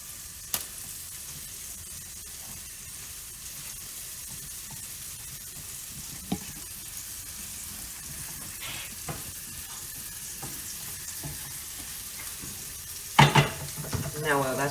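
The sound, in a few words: scrambled eggs and sausage patty frying in a pan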